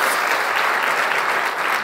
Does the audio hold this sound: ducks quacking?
no